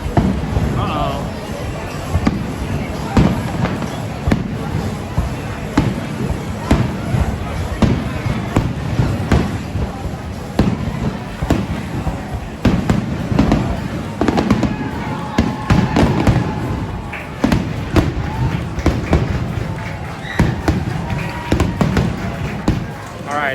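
Fireworks pop and crackle repeatedly in the distance at Kings Island amusement park, sharp irregular bursts over a murmur of a crowd talking nearby.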